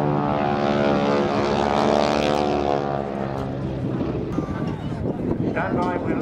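Aerobatic display propeller aircraft sweep past in a formation pass at the Torbay Airshow 2016, a loud droning engine roar with shifting pitch and wind buffeting the microphone, under a commentator's voice.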